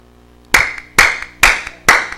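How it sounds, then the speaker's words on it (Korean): Four sharp hand claps land close and loud in an even rhythm at a Friday church worship service, with no voices in between. "손뼉 치는 거예요."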